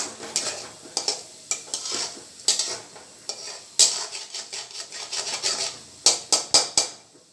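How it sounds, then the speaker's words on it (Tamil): Urad dal and popped mustard seeds frying in a pan for a mung bean poriyal, with a steady sizzle under repeated scraping and stirring of a spoon against the pan, close and fairly loud. "கடுகு பொறிஞ்ச மேலே உளுத்தம்பருப்பு போட்டுக்கலாம் ஒரு ஃப்ரை பண்ணிக்கலாம்"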